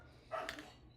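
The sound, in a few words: dog barking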